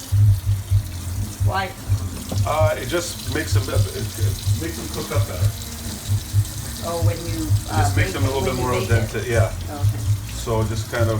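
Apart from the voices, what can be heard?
cold tap water rinsing lasagna noodles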